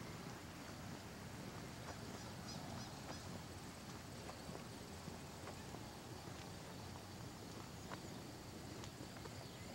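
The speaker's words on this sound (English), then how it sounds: "Oh, it's a mule." A mule's hooves clip-clop in an irregular walking rhythm over steady outdoor background noise at an orchard, with faint voices in the distance.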